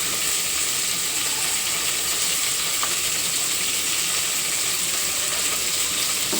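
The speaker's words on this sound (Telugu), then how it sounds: "బాగా వేగనివ్వాలి మనం వేసుకున్న ఈ కొత్తిమీర పుదీనా అలాగే బిర్యానీ స్పైసెస్ కూడా వేగిపోతే సరిపోతుంది" Coriander leaves, mint and biryani spices fry in oil for a pilaf, giving a steady, close hiss of sizzling without pause for the whole stretch and no talk.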